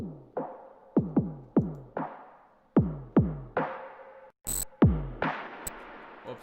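Drums in a song intro processed with reverb, delay and filtering strike in a loose rhythmic pattern, each hit decaying into a washy tail, muffled and distant, with a brief glitch midway.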